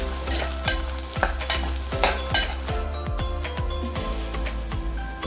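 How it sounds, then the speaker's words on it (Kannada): Chopped onion frying with ginger-garlic paste for tomato bath: a steady sizzle throughout, with a spoon scraping and stirring the pan in a regular rhythm of repeated strokes, close and clear. "ಈರುಳ್ಳಿ ಚೆನ್ನಾಗಿ ಫ್ರೈ ಆಗಲಿ."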